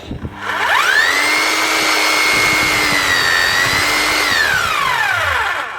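A Bosch GSH 5 E hammer drill, after repair, whirs up and runs steadily at a high pitch for several seconds, then winds down, loud and close with no talking.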